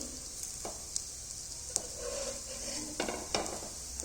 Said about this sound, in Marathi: तर ही मध्यम गॅसवरती लालसर होईपर्यंत आपण खालची साईड पण भाजून घेणार आहोत